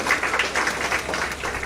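Applause fills AIIMS hospital in Delhi as the first COVID-19 vaccine dose is given to a health worker, a continuous crowd of claps at moderate volume.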